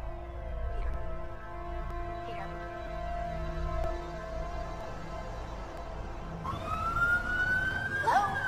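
Emergency vehicle sirens wail continuously, a police-style siren rising and falling over city traffic, with a second siren sweeping in louder near the end.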